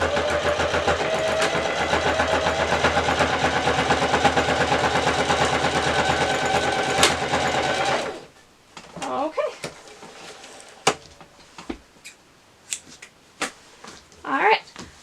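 A sewing machine top-stitches a quilt in a steady, dense mechanical whir that runs loud and close for about eight seconds, then stops, leaving quiet handling noises and scattered clicks.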